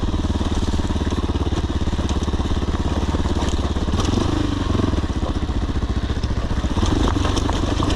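A Sherco SE-RS 125 off-road motorcycle engine runs steadily close by, its rapid putter rising and falling slightly as the bike rides along.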